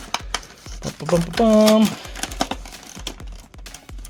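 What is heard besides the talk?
cutting open Marvel Legends action figure packaging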